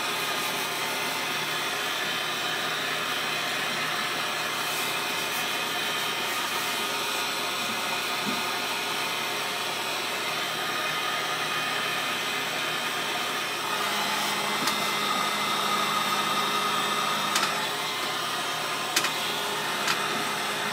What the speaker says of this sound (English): It's my heat gun.